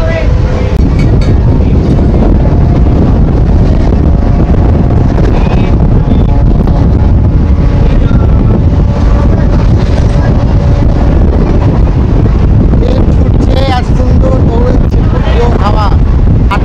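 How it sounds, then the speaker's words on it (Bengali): Heavy wind rushes and buffets against a microphone aboard a moving Katwa local commuter train, a loud steady roar with rattling running underneath throughout. "হাওয়া"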